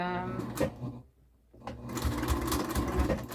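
Sewing machine back stitching a 100% cotton hot pad, with bursts of rapid mechanical stitching on either side of a brief pause, close and fairly loud.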